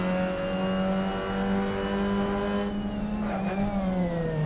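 A race car engine in the racing video game Assetto Corsa drones steadily at high revs, nearby and loud, at the Nürburgring, its pitch rising briefly as another engine closes in near the end.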